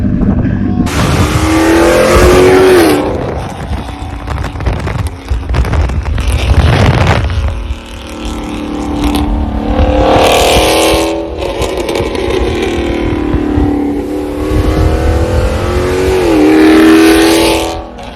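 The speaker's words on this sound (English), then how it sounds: "My Charger has a wonderful exhaust. It has the MagnaFlow X mod, and it sounds beefy as hell." A Dodge Charger V8 with a MagnaFlow X-pipe exhaust revs hard several times, its deep throaty exhaust rising and falling in loud rumbling bursts with crackles between the revs.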